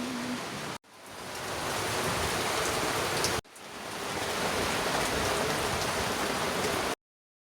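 Rain falling steadily on a sailboat in the Bahamas, a dense, even hiss of drops heard from inside, broken by two brief cuts before the shower resumes at the same level.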